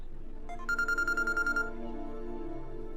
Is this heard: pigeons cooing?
no